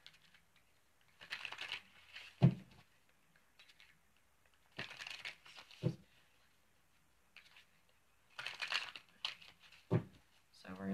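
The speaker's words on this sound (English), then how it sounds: "Give me a moment while I shuffle up the cards here." A deck of cards is shuffled in a quiet room: several short crisp riffling bursts, each ending in a soft tap, separated by pauses, close and faint.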